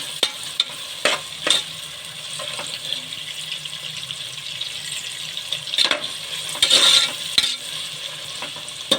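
Onions sautéing in a pan for chicken dum biryani, with a steady sizzle and repeated scraping stirs of a spoon at close range, and no voices.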